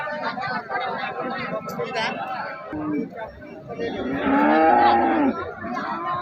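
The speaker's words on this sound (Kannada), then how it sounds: "ಇಲ್ಲೊಂದು ಹಸು ಇದೆ ನೋಡ್ರಿ" A cow moos loudly and nearby at a weekly cattle market in Nulvi, a drawn-out low call, while several people chatter in the background.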